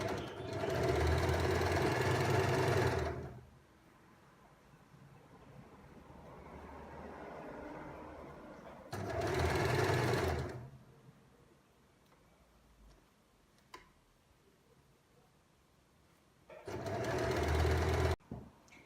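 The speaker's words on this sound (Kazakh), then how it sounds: "Міне енді замогымызды тігіп алдық" A sewing machine stitching in a zipper runs in three loud bursts, a long one at the start, a shorter one in the middle and a final one near the end, with quiet pauses between them.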